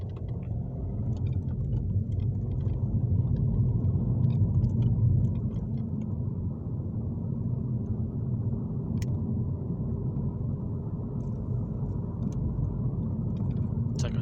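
A Mini in Volcanic Orange drives over rough road, giving a steady low rumble of tyres and engine from inside the cabin that swells near the start and then settles, with occasional faint knocks.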